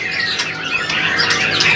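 Bahorok white-rumped shamas (murai batu) at a bird kiosk in Pramuka market give loud, bright, squawking calls and chirps that overlap densely, close and continuous with no talking.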